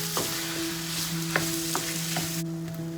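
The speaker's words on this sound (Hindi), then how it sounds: "इसमें मैं कीमा डालूँगी। और इसको भी फ्राई कर लेंगे।" Minced meat (keema) sizzles steadily in a pan with fried garlic and ginger, a constant close crackle with occasional stirring scrapes and clinks.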